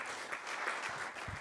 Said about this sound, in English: I hope you can hear the applause, Thomas